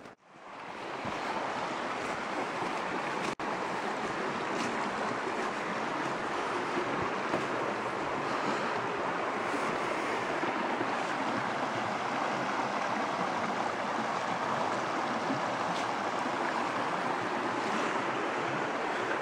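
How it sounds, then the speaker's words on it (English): Steady broadband rush of the East Fork of the Chattooga River flowing in the Upstate South Carolina wilderness, a constant close wash of water with no letup for the whole stretch. "And this would be the East Fork of the Chautauqua River."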